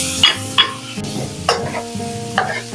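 Ground pork going into a hot pan with onion and garlic for palabok, frying with a steady sizzle while a spoon scrapes and stirs in several distinct strokes, close and fairly loud, with no talking.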